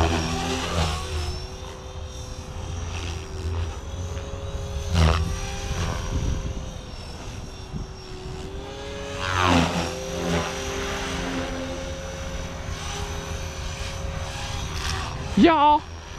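A Blade Fusion 360 smart RC helicopter flies nearby with a whining rotor hum that rises and falls as it maneuvers, while people talk throughout.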